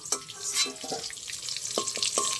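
Potatoes frying in oil until browned, a soft sizzle broken by several sharp clinks and scrapes of a spatula against the pan, quiet and close with no talking.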